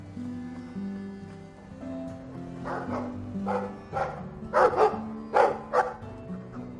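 A dog in the video game Dragon Age II barks several times in quick succession, the barks growing louder toward the end over soft sustained background music.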